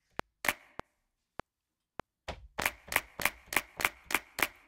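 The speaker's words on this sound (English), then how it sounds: "So now that's just a clap." A crisp hand clap sample in Logic Pro X, first a few scattered single claps, then a steady run of about eight evenly spaced sharp claps, dry and alone.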